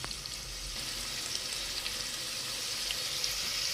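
Onion sautéing in a spoonful of butter in a pot, a dense, continuous sizzle that stays level and close throughout with no voices.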